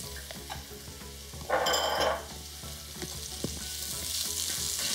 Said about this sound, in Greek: Ανακατεύουμε να σοτάρουμε καλά τα κρεμμύδια με τα μυρωδικά μας.